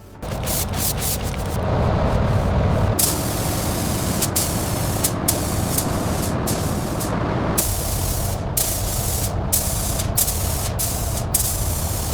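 A spray gun hisses in loud, sustained bursts with short breaks between passes, spraying black guide coat onto the panels of a 2005 Ford GT, close by and dominating the scene.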